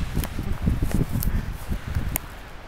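Wind gusting at the Grand Canyon rim, buffeting the microphone in low, uneven rumbling bursts with some rustling, loud and close throughout, no talk.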